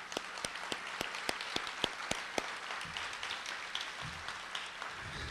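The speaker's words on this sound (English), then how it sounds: "I think we should give those folks a heaping round of applause" An audience at a community kickoff event in a high school setting gives a round of applause, with steady clapping and a few sharper, distinct individual claps standing out, moderately distant.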